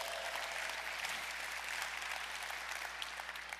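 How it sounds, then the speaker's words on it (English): Keynote audience clapping together at a conference, a dense, even patter of many hands held steady for several seconds at moderate distance, with no voices over it. "Can I get a clap so I can confirm that?"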